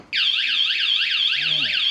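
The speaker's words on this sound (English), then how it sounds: "You've activated the second part of the alarm now." A VanGuardian campervan anti-theft alarm wails loudly in a fast rising-and-falling siren, starting abruptly and holding continuous, with a voice briefly underneath.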